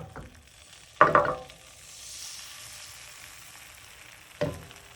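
Egg mixture twirled around a hot pan gives a soft, low sizzle, broken by two sharp clattering scrapes of utensil against pan, one early and one near the end.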